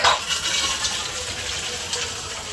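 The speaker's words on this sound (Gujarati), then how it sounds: "જો પાણી આવી ગયું, પાણી ભરાવાનું કીધું" Water pouring from a tap into a container, a steady close rushing splash that starts with a brief louder gush and continues evenly, with no voices.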